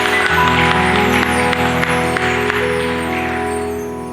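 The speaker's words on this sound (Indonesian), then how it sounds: "Ayo tepuk tangan yang baik." Sustained clapping from a church congregation, dense and steady, with a faint sustained tone running beneath, fading slightly toward the end.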